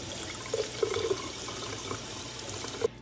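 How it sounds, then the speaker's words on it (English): Cold water runs from a tap into a small bucket, a soft steady wash with faint splashes and a few louder drips, quiet and close with no voices. "I have the cold tap here, and then I'm going to rinse it in my little bucket."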